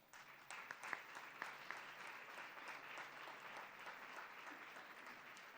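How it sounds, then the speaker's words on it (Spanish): Applause from a conference audience in a hall: a steady wash of many hands clapping, fairly faint and distant, with a few sharper individual claps standing out early on. "lo celebramos con otro fuerte aplauso"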